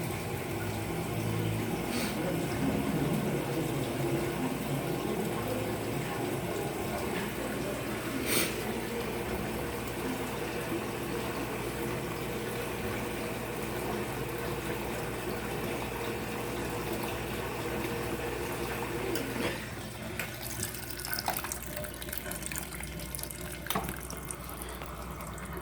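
An Electrolux LF75 turbo-clean washing machine fills with water, a steady rushing flow heard close up throughout, with a few faint knocks and a slight shift in tone near the end.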